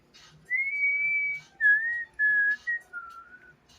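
A pet bird whistles a short run of clear, sliding tonal phrases, several notes in a row with brief pauses between them, close and fairly soft in a quiet room.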